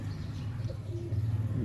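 Pigeons from a prized flock kept for sale coo in soft, low, throaty murmurs, a few overlapping calls close by against a quiet background.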